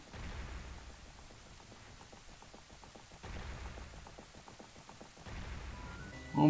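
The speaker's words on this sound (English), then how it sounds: "Oh, ominous lightning storm." Rain falls steadily during a lightning storm in the video game Ocarina of Time, a soft continuous patter in low-level waves, with a sudden louder burst right at the end and no talking.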